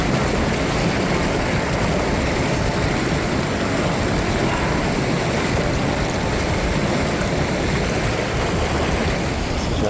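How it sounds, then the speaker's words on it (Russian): A fast-flowing mountain river in Peru's Rainbow Mountains and Red Valley area rushes loudly and continuously, a dense steady roar of water heard close by with no voices. "Горная речка достаточно быстрая по течению."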